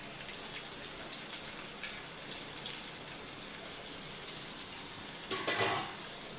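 Small shallots and large onions fry quietly in a pan with a soft, continuous crackling sizzle. A brief louder splash of sizzling comes near the end, and no one talks over it.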